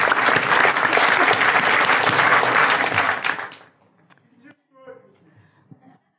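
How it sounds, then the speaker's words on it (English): A group of people applaud together in a room, brisk, fairly close clapping that lasts about three seconds and then quickly dies away, leaving a few faint sounds and a brief voice. "this is like a group clap for all the sharers."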